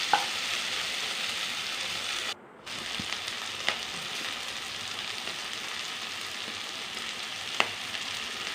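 Tomato, onion, green chilli, ginger and garlic fry in a pan with a soft, continuous sizzle, broken by a brief dropout and a few light utensil taps.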